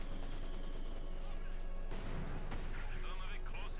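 Repeated explosions and gunfire from the video game Company of Heroes 2 thud through a dense, noisy battle din, with a sharp blast near the middle and faint voices mixed in.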